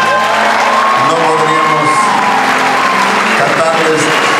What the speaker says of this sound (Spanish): ustedes les brinden un aplauso muy grande